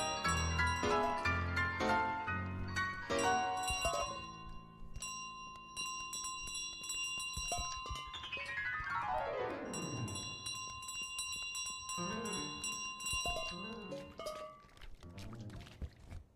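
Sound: bell carried in goose's beak, from video game Untitled Goose Game

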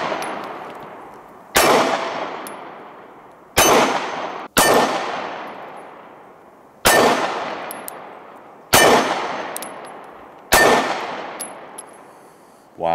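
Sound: Springfield Armory XDs 9mm pistol shots hitting steel targets

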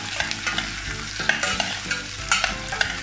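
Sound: onions sautéing in a pan until golden

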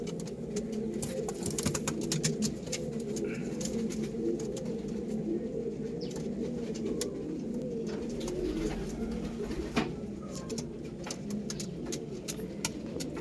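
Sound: domestic pigeons cooing

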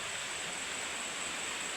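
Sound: river water flowing

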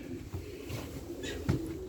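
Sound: domestic pigeons cooing at the loft

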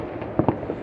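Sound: firecracker exploding on New Year's Eve

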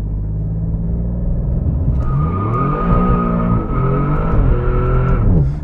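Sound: Alfa Romeo Giulia Quadrifoglio launch control acceleration

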